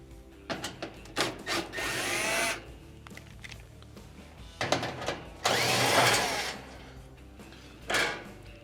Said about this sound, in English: to remove the front panel, we'll have two Phillips head screws going straight up and in on the left and right side